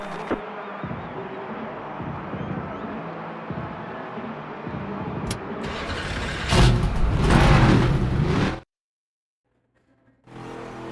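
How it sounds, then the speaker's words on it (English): Stock car engines starting up for an ARCA Menards Series race at Michigan in the NASCAR 25 video game, a rough mechanical buzz that swells louder near the end, cuts out briefly, then returns. "Drivers, start your engines!"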